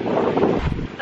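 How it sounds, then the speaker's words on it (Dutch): Strong wind on a beach on Ibiza buffets the microphone in a steady, loud, rumbling roar across the whole second, with no voices. "Ik weet niet of je heel erg wind hoor"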